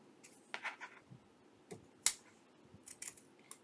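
Scissors snip at craft material for a bookmark project in a handful of crisp, separate cuts. The clicks are faint and close against quiet room tone, and no one speaks.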